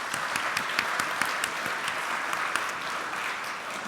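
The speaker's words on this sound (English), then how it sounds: "let's give them all a round of applause" A symposium audience claps in a sustained round of applause, moderately distant and even, with a few sharper individual claps standing out.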